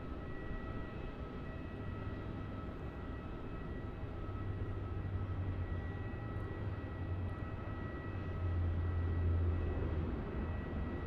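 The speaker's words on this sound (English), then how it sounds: "And now, arriving onto runway 34, we have another Jetstar A320." Jetstar Airbus A320 airliner landing on runway 34 at Melbourne Airport, a steady broad engine roar with a low rumble that swells louder toward the end, no voices.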